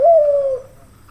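A single drawn-out coo from a dove chick, close and fairly loud, starting strong and fading after about half a second into quiet.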